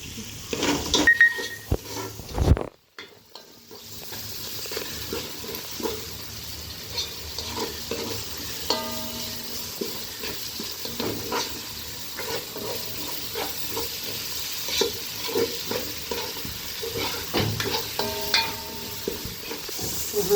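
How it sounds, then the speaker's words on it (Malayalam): Bread upma mixture being stirred and sautéed in a pan on the stove, with soft scraping strokes and a steady low sizzle throughout, close and moderately loud, with a brief quiet gap early on. "നന്നായിട്ട് വഴണ്ട് വരട്ടെ നമുക്ക് ഓക്കെ വേവി നല്ലപോലെ വേവി"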